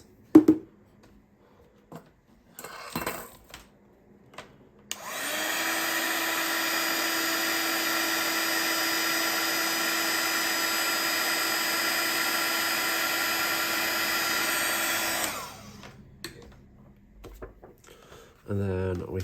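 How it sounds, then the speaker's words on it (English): Heat tool warming white embossing powder, a loud steady fan-like whir that switches on abruptly, runs evenly for about ten seconds and then cuts off, with quiet handling noises before and after. "Sprinkle over some white embossing powder. And then heat that."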